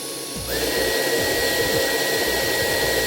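A Dyson vacuum cleaner switched to boost mode suddenly ramps up to a louder, higher-pitched whine and keeps roaring steadily at full power, close by.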